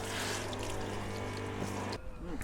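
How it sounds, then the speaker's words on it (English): Low pressure water rinses the door shuts of a 991.1 Porsche Carrera S during a detail, a steady close hiss of spraying water that cuts off abruptly, leaving faint dripping. "So I get in there with a low pressure rinse and just rinse it out after brushing it through."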